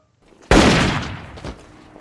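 A single sharp gunshot in a German war film bursts out loud and close, followed by a decaying echo and a fainter second crack.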